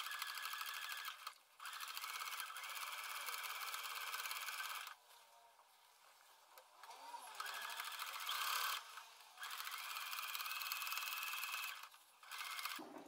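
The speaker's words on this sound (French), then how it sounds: "On va venir surpiquer au plus proche du bord du zip le long de l'encolure" A sewing machine topstitches with a long 3.5 mm stitch close to the zip edge along the neckline of a jacket, running in several steady buzzing bursts separated by short pauses.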